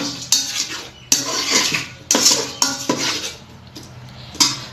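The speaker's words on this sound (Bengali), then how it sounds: "মশলাটা আমি এবার ভালো করে কষে নেব" A spoon scrapes and knocks in a rice cooker pot while spice masala fries with beef, giving rhythmic metallic stirring strokes about once a second over a faint sizzle, close up.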